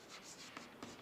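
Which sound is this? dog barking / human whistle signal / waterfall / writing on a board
writing on a board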